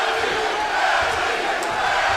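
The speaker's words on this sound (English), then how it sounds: "And the crowd in favor of Tim Bradley" A boxing arena crowd at a 140-pound championship fight roars in a steady, dense wall of cheering and shouting, filling the space without a break.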